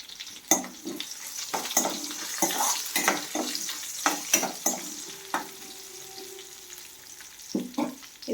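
Garlic, curry leaves and slit green chili frying in oil in a pan, with stirring scrapes and clinks over a soft sizzle, plus brief bursts of running water in the background.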